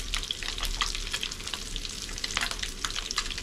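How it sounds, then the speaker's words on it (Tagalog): Eggs frying in spattering cooking oil, a steady close sizzle with dense crackling pops throughout. "matalsik yung mga mantika to"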